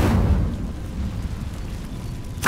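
Incendio fire spell cast in Hogwarts Legacy, a deep rumbling whoosh of flame that swells loud at the start and rolls on steadily for a couple of seconds, ending in a sharp burst.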